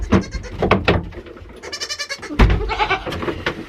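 Several goats bleat loudly and repeatedly inside a duck coop, with overlapping wavering cries close by mixed with rustling and scuffling movement.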